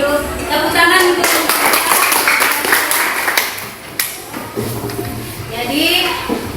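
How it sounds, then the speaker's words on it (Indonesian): Classroom students clap for a group that has just finished presenting a maths lesson, a burst of quick, uneven hand claps from many pupils close by, fading and then swelling again, with voices talking over it. "Tepuk tangan untuk"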